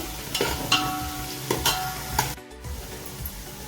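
Vegetables, including onion and spring onion, stir-frying on high flame for restaurant-style Chinese veg fried rice, with a steady sizzle and several sharp scraping stirs of a spatula against the pan, close up and with no voices.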